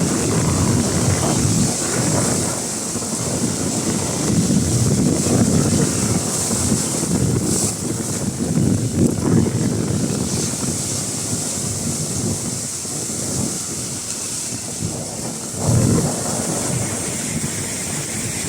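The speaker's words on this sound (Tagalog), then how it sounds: "napakalakas pa rin pa ng hampas ng alon doon" Heavy waves crashing along Manila Bay, a loud continuous surge of surf with strong wind buffeting the microphone and no talk.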